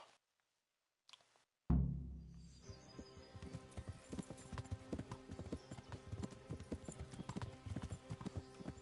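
Galloping horse hooves in the medieval video game Kingdom Come, a steady rapid clip-clop rhythm close and loud, running continuously after a brief quiet start with no talk over it.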